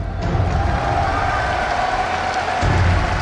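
A large esports arena crowd at Gamescom roars and cheers for Counter Logic Gaming in a League of Legends match, a dense, loud, continuous wall of noise.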